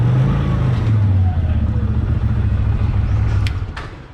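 A Toyota Land Cruiser engine drones and revs loudly close by, holding steady before dropping away near the end, with a brief clatter partway through.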